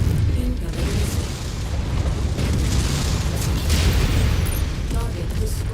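Missile explosions in the mech combat game Mechwarrior 5 Mercenaries roar as a sustained, loud low rumble with rolling booms, continuous for several seconds.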